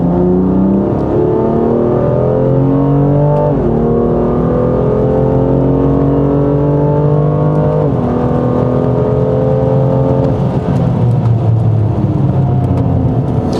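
From inside a BMW F87 M2 Competition on a test drive, the engine drones loudly and continuously as it accelerates through the gears. Its pitch climbs steadily and drops briefly at each shift.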